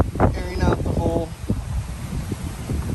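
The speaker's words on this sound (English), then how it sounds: "beautiful views. Nice and windy" Steady wind blusters across the microphone with a constant low rumble at an open campsite beside a Forest River Aurora Light 16 BHX camper, while a person speaks over it near the start.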